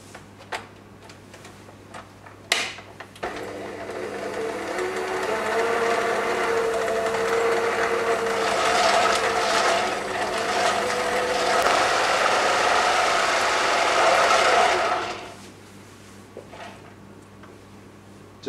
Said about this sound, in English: to use the electric beaters to mix together the butter and brown sugar in a process called creaming